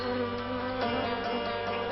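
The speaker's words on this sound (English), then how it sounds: "Squadrons of carnivorous rainforest wasps take to the air." Carnivorous rainforest wasps in flight, a steady close buzzing drone with overlapping wingbeat hums, no voices.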